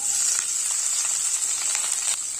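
Chopped onions added to hot oil in a pan sizzle and fry steadily, a bright, continuous crackling hiss close by with no talking.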